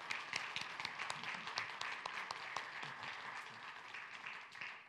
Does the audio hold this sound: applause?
yes